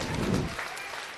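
An audience at a school drama claps in a short burst of close, dense applause that cuts off quickly and fades into quiet room noise.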